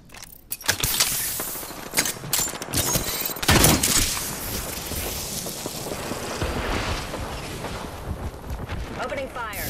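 Automatic gunfire and bursts from the video game Apex Legends, in a loud, dense battle mix with sharp shot transients and a big blast near the fourth second, while a player talks over the action.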